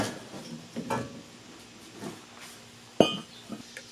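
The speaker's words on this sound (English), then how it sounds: "Now the caliper come off the rotor." Metal clinks and knocks as a brake caliper is pulled off the rotor of an R32 Skyline during a Brembo big brake upgrade, several sharp close taps with one louder clank near the end.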